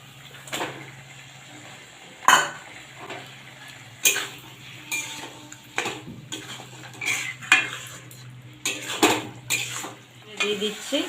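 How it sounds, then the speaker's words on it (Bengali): Washed mutton goes into a pan of spice masala for a thin Bengali mutton curry with papaya and potato. Repeated metal scrapes and clanks of stirring ring out over a low steady hum and a faint sizzle, with no voices. "এবার ধুয়ে রাখা মাংসটা দিয়ে দিচ্ছি।"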